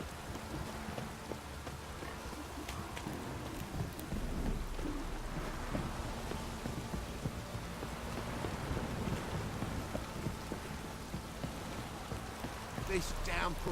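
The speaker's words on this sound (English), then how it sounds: "This downpour's a bastard," Heavy downpour and rumbling thunder in the video game The Witcher 3, a steady wash of rain with low rolls of thunder throughout, under faint game voices.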